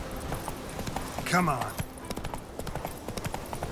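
Hooves of Geralt's horse Roach clip-clopping in The Witcher 3, a steady rhythm of hoofbeats running under a voice, with a brief whinny-like swell partway through.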